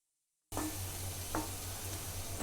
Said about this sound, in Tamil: இப்போ அரைச்ச தக்காளி விழுதை நம்ம சேர்த்து பச்சை வாசனை போகிற வரைக்கும் நல்லா வதக்கலாம்.